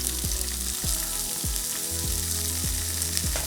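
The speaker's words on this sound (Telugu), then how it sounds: "మళ్ళీ కొంచెం ఆయిల్ పోసుకుని మనం కట్ చేసి పెట్టుకున్న దొండకాయలు దీంట్లో వేసేసుకోవాలి." Cut ivy gourd pieces fry in hot oil with a loud, continuous sizzle close up, broken by a few clattering stirs.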